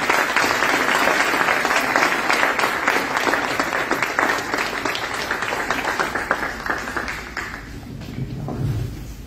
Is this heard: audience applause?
yes